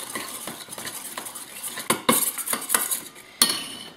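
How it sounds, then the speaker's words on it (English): A metal spoon stirs lemon juice into a lemon-almond cake batter in a bowl, making close clinks and scrapes that grow louder toward the end, with two sharp knocks against the rim. "I'm just going to give that a little stir"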